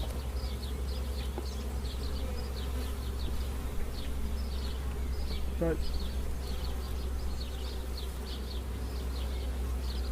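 Honey bees swarm around an open hive while a beekeeper splits the colony into a nucleus, giving a dense, steady buzz with a faint voice briefly underneath.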